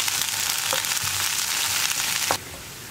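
Sliced onions sizzle in hot oil with mustard seeds, a steady close frying hiss with a few soft stirring clicks, easing slightly near the end.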